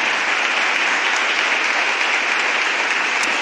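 Church congregation clapping their palms together in dense, continuous applause, loud and steady throughout, with no talk over it.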